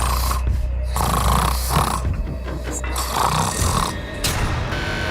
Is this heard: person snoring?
yes